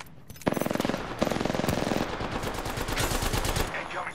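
Automatic weapon fire in Apex Legends, rapid close bursts of shots in quick rhythmic succession, loud and repeated with brief gaps between volleys.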